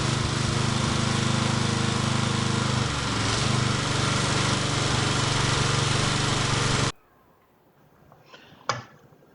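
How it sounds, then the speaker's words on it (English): Several lawn mower engines run steadily and loud, warming up after months of sitting so the oil can be drained, then cut off abruptly, leaving a quiet stretch with a few faint knocks. "I start the engines and let them run for a couple of minutes"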